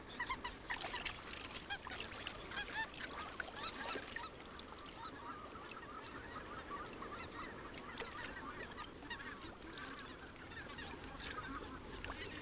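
Many white-fronted geese honk and call in a noisy overlapping chorus, steady throughout, with other birds mixed in at moderate distance in Russian tundra wetland.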